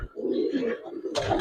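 Pigeon cooing in a loft, a short low soft coo heard close, ending in a brief rustle.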